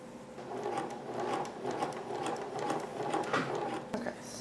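A sewing machine stitches the sleeve of a girl's nightgown, running steadily and close with a continuous buzzing whir and rapid needle rhythm, ending with a brief knock.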